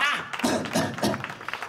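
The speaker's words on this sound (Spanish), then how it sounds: "¡Un aplauso para el más malvado de todos los comerciantes!" A street audience at an outdoor old-town performance gives a short, scattered round of hand clapping, with a few distinct claps and a voice mixed in over the top.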